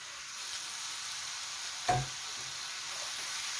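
Marinated squid and fish cake stir-fry in a hot pan, giving a steady close sizzle with one short clatter partway through, and no voices.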